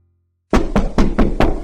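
Five firm, evenly spaced knocks on a wooden door ring out close and loud after a moment of silence, as a standalone sound effect.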